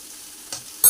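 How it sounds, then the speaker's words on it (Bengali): Drumstick vegetables with spices are stirred in a frying pan: two quick, close scraping strokes over a soft, faint sizzle, all within a second. "এইভাবে সবজিগুলো একটু নেড়েচেড়ে নিয়ে মশলা দিয়ে দিচ্ছি"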